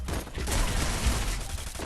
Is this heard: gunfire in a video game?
yes